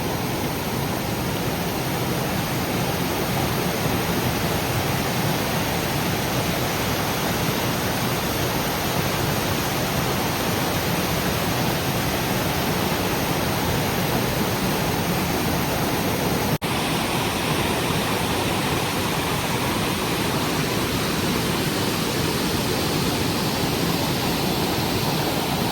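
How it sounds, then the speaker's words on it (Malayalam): A small waterfall at Palchuram in Kannur, Kerala pours with a constant, dense rushing roar, close and unbroken, with no other sounds over it. "ചെറിയൊരു വെള്ളച്ചാട്ടം."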